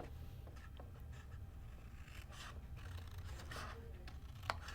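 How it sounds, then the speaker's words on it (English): Paper being cut with scissors along score lines while making a pocket tissue holder craft, a steady run of close, soft snipping and scraping strokes with one sharper click near the end, no talking. "So you just cut along the score lines."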